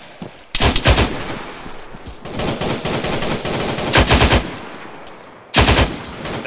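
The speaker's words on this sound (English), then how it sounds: "Oh, they're shooting at me." Loud machine gun fire in the military shooter ARMA 3, aimed at the player; long, dense volleys of rapid shots hammer close by, broken by short lulls before another sharp burst near the end.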